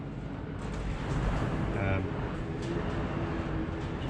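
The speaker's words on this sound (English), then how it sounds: "Hear that wind. It's actually moving the camera mount, which is bolted to the wall." Strong wind buffets a camera mount bolted to a workshop wall beside a lathe with a radius turning attachment, making a continuous low roaring rumble with gusty swells that fill the whole clip.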